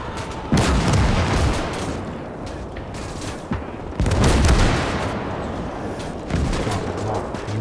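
Cannon and gunfire in the Gates of Hell World War II strategy game: heavy booming blasts at intervals over a constant crackle of battlefield shooting, loud and close, with no voices.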